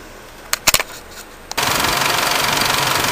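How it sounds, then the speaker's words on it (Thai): A car engine cranks and catches after a few sharp clicks, then settles into a steady, loud, evenly pulsing idle during an alternator voltage check with a battery tester. "แล้วทำการสตาร์ทเครื่องยนต์ได้เลย"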